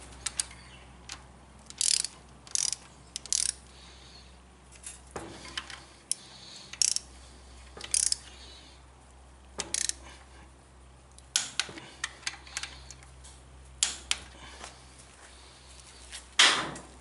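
A torque wrench ratchets as both nuts are tightened to specification on an M38, giving close, sharp clicking bursts in short irregular runs separated by pauses, with no talk.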